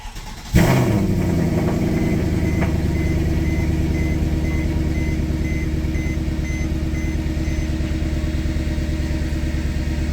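A Mercedes E63 AMG engine cranks, fires up sharply and settles into a steady, loud, rumbling idle. It is close by and continuous for the rest of the clip, with no talking.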